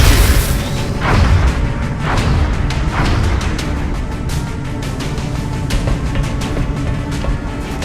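Gunfire and booming impacts from the strategy game XCOM: Enemy Unknown, heavy blasts with whooshing bursts over a dense, rumbling battle backdrop, several loud hits spread across the clip without speech.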